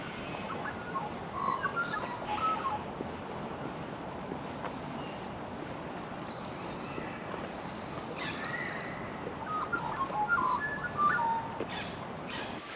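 Birds call and chirp continuously in a rainforest in Canberra, the calls faint and scattered over a steady wash of wind and background noise, with no talk.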